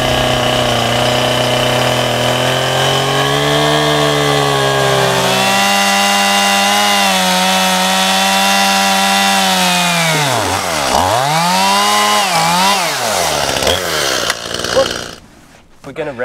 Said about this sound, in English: Chainsaw to cut the log just to speed up the process